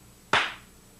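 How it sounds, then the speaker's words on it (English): A single sharp hand clap breaks a quiet background and decays quickly within about a quarter second. "But when our waveform is the sound from a hand clap"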